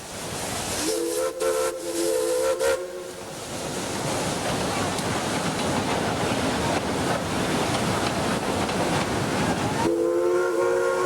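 A steam locomotive, an outside-frame engine pulling a charter train up into the Andes Mountains, rumbles along steadily while its steam whistle sounds in short blasts at the start and again near the end.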